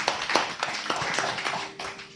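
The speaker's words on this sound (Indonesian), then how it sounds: "Sekali lagi kasih tepuk tangan buat mereka." Scattered hand clapping at a church worship service, a few people applauding with uneven, irregular claps over a couple of seconds.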